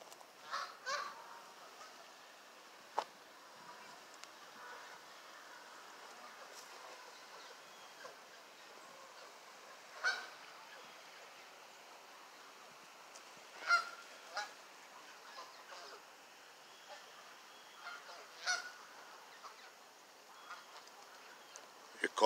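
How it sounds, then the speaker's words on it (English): Faint, distant geese honk sporadically in scattered bursts over quiet outdoor ambience in Schenectady Central Park. "Let's hear the geese crows a little bit"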